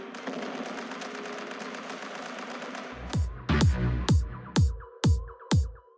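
A mobile shooting video game fires a run of gunshots, about six sharp, booming blasts spaced at a steady rhythm after a stretch of game music and ambience.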